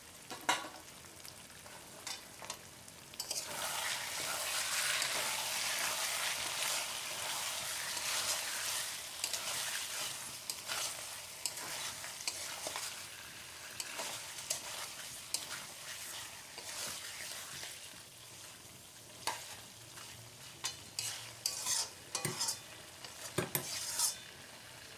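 Chicken kosha being stirred in a pan, with a constant hissing sizzle and repeated sharp spatula scrapes and clinks against the metal. The clatter grows busier toward the end, and there is no talk.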